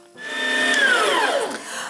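An electric grinder whirs up and runs steadily, its motor pitch sliding downward as it minces vegetables for Abkhaz adjika, close by with no talking.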